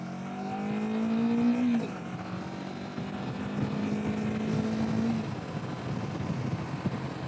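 A stock-exhaust Kawasaki Vulcan S motorcycle rides along, its engine droning steadily and rising in pitch, then dropping sharply at a crisp downshift before climbing again, with wind rush throughout and the exhaust note fairly quiet.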